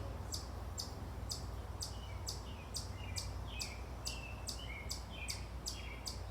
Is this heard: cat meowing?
no